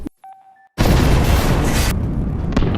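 A brief electronic tone gives way to a sudden, massive movie explosion that roars loudly for over a second before a rumbling, crackling tail.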